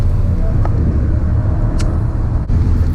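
A VW Golf 7 R laps the Nürburgring, its engine and road noise forming a loud, steady low rumble throughout, with a couple of faint brief clicks on top.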